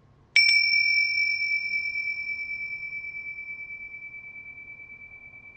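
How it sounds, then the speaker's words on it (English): A meditation bell is struck once, a bright pure ring at close range that sustains and slowly fades over several seconds with a gentle beating shimmer, with no voices. "listen to the sound of the bell from the point between the eyebrows"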